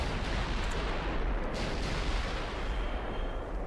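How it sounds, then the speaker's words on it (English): Battleship guns firing in the naval game Ultimate Admiral Dreadnoughts, a dense continuous rumble of heavy booms with a couple of sharper cracks, loud and without speech. "What is the battleship shooting at?"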